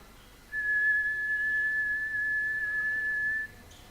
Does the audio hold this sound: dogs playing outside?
no